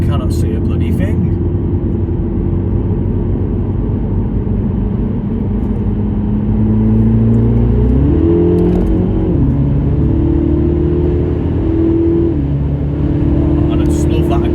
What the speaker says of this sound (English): And I just love that aggressive gear change as well.